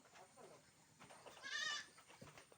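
Goats bleating on a village farm where cattle are also kept, a short wavering bleat rising clearly in the middle of the clip over quieter people talking.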